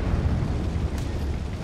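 A tank's volcano-style turret eruption effect in the Armored Warfare video game, heard as a dense, continuous rumbling roar with a faint crackling burst near the midpoint, steady and loud throughout with no talk.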